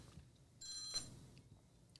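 A phone ringtone goes off briefly and quietly, a short bright electronic trill of about half a second against faint room noise, with no talk over it.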